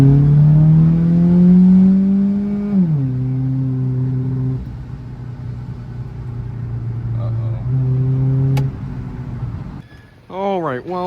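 A tuned Chrysler Sebring revs and accelerates on a test drive, the engine note climbing, dropping at a gear change and climbing again, loud and close throughout, with a short burst of other noise at the end.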